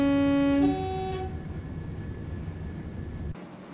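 Class 37 diesel locomotive in a train simulator game, a strong steady tonal engine note and horn-like harmonics at the start that drop away into a continuous rumbling drone as the train departs, ending abruptly.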